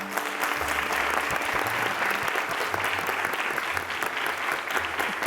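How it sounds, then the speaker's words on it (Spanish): Strong, steady applause from a studio audience welcoming a guest theatre director onto a talk show, dense and sustained throughout with no pauses. "Démosle la bienvenida con un fuerte aplauso a Rodrigo Johnson."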